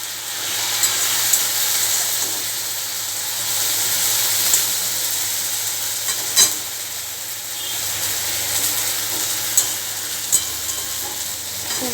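Continuous close sizzling in a wok as fish goes in with tomato, steady frying hiss with occasional scraping stirs and clinks, no talk.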